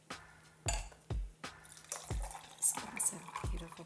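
Deep magenta-red sorrel drink is poured into a carafe in a home kitchen, giving a series of separate splashy liquid pours and drips, each starting with a low gush, close and fairly quiet.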